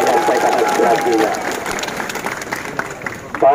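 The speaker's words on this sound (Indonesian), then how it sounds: "Tepuk tangan dulu untuk masyarakat yang sudah menyampaikan aspirasinya" A crowd of community members at a public hearing for a regional council claps together, dense and fairly loud, the applause fading and thinning over a few seconds, with talk overlapping.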